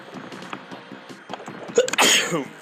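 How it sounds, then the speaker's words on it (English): A single loud sneeze bursts out near the end, preceded by a few soft breaths and quiet rustling. "I feel a sneeze coming"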